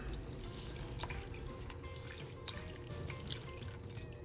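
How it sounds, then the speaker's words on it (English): Freshly picked garden kale is washed in water, giving faint splashes, drips and trickles that sound close but quiet, with no talking. "It's really important to wash your kale. Wash it a couple times."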